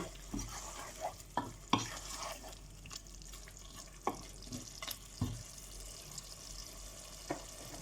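Fish being added to a frying curry of potatoes and roe, for an aire fish curry with beans, heard as a low background fry punctuated by several sharp scraping stirs and clinks of the spoon against the pan, with no talk.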